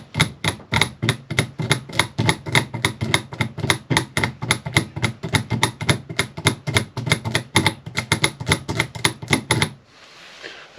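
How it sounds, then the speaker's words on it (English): A clean, rapid run of sharp mechanical clicks from an Etec outboard fuel injector energized against a battery terminal, pulsing steadily for about nine seconds before stopping abruptly, close and loud with no talk. "Now obviously you can hear that clicking."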